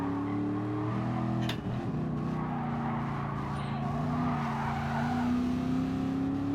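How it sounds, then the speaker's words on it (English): A car in Gran Turismo Sport's GT League FR Challenge brakes hard, its tires squealing briefly over a loud, steady engine drone that shifts pitch as it slows. "Hard on the brakes. Down to second gear."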